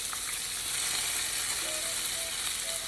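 Onion frying in hot oil for coconut rice, a dense, steady hiss and crackle close up, unbroken throughout with no voices.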